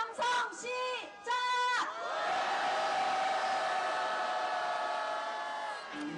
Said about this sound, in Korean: 여러분의 함성으로 오늘 4차 행동의 날 힘차게 시작하겠습니다